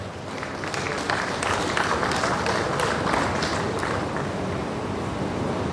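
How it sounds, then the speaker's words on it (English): Audience applause at a formal investiture ceremony for a Lagos town planners' institute chairman, a steady dense wash of clapping from a large crowd that holds even and full for several seconds. "Please, a round of applause for him."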